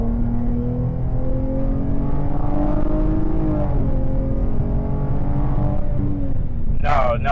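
A Dodge Challenger with a Hemi V8 and an 80mm throttle body pulls hard at full throttle from inside the cabin, its loud engine drone climbing steadily in pitch for several seconds, with a rising whine near the end.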